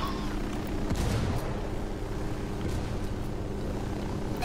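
A helicopter in the Ghost Recon video game gives a dense, continuous rotor thrum with rapid chopping pulses and scattered sharp gunfire-like cracks layered over it.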